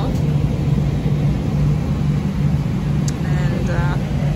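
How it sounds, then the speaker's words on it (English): Steady, loud drone of a large propeller airliner's engine in flight, heard from inside the cabin as a continuous low rumble with a faint tonal hum, with a few brief light sounds near the end. "I love the sound of the engine when it takes off."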